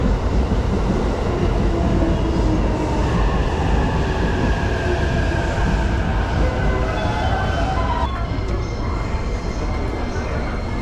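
A Shonan-Shinjuku Line train bound for Ofuna rumbles loudly and continuously at close range at Urawa Station during morning rush hour, with a steady mechanical roar and faint squeals and tones over the top.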